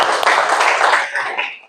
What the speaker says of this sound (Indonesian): Betul, boleh tepuk tangan.